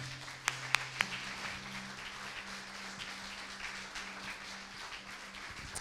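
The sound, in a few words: congregation applauding in church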